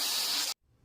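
A pressure cooker cooking pongal lets out a loud, close burst of hissing steam that cuts off abruptly into quiet.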